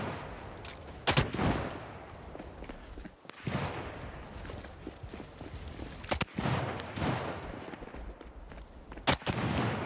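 Gunfire at a school in the Project Zomboid video game, heard as several sharp, fairly distant shots spaced a few seconds apart over a steady background murmur, with no talk.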